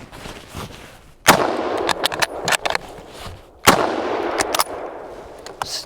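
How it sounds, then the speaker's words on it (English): A Swedish Mauser rifle is fired outdoors as night falls. Two loud, separate shots crack a few seconds apart, each followed by a rolling echo and small clatters. "We're gonna shoot the rest of the ammo that we got here."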